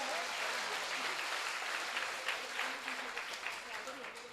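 A crowd claps at a Govardhan Puja festival in Hapur, a broad, moderately loud wash of applause that swells slightly midway and fades a little toward the end, with no voices rising above it.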